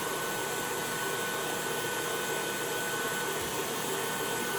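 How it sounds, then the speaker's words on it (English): An electric mixer whisks cream with sugar on medium-high speed, giving a steady, loud, continuous whirring drone that runs unbroken throughout with no talk. "we're just going to let it whisk for a good long while on that medium-high"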